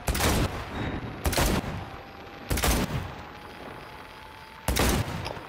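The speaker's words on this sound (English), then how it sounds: "I obviously suck at shooting" Four loud bursts of gunfire from shooting in the video game Cyberpunk 2077, spaced a second or two apart, each a sharp crack with a short decaying tail over a low steady background.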